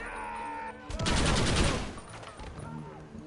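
Rapid chain gun fire in a video game, a dense burst of loud gunfire lasting about a second, then tapering off into quieter game sounds.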